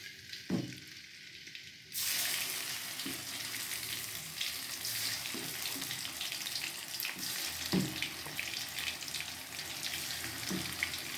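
Thin beef slices frying in a pan for Surabaya-style lapis daging, a loud steady sizzle bursting in after a quiet start and continuing with occasional stirring clatters.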